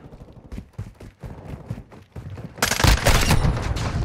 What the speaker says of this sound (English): Oh shit, sentry gun